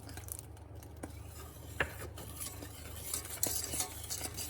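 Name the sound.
stirring milk into a chocolate mixture in a pot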